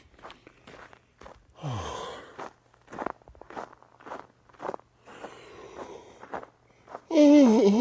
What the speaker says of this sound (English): Oh, excuse me, I yawn.